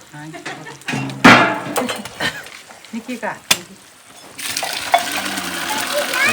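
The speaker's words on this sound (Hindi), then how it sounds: "आप चने डाल देते हैं" A clatter as chickpeas are tipped into a pot, followed by splashing and a rising sizzle, with kitchen utensil clinks and a voice speaking throughout.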